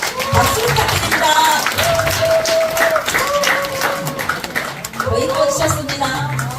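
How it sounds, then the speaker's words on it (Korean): An audience at a 4Life business seminar applauds as a company executive is called to the stage. Steady clapping fills the clip under loud, tonal music, with no pause from start to finish. "큰 박수로 요청해 드리겠습니다. 박수 부탁드립니다."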